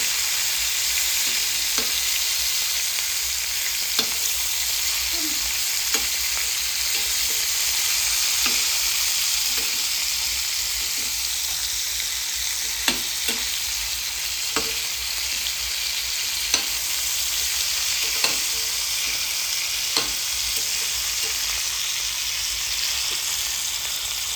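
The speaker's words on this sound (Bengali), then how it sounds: "হলুদ দিয়ে একটু নাড়াচাড়া করে নেব মানে হালকা একটু ভেজে নেব" Chicken seasoned with salt and turmeric fries in a pan with a loud, unbroken sizzle close by. Scattered sharp clicks of stirring tap through it, and nobody speaks.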